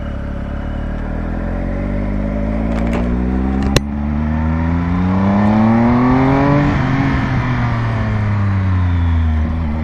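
A 2020 Triumph Speed Triple RS motorcycle pulls away after a near stall, its engine note rising through the gears in loud, climbing revs with one sharp clack early on, close and continuous without speech.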